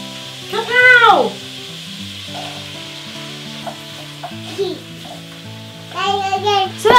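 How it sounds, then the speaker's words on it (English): Mixed vegetables, including potato and pepper, fry in a hot pan for soup with a steady, moderate sizzle, broken by two short, loud vocal exclamations. "So that can all fry off really happily for about 10 minutes."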